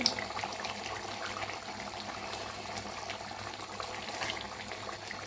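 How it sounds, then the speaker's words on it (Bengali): Nuna greens going into a pot of beef curry as it cooks, a close, steady bubbling and wet sizzle with light splashy crackle that continues evenly throughout. "এই যে আমি শাকগুলো এখন দিয়ে দিতেছি।"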